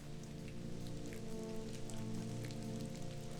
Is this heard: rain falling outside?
yes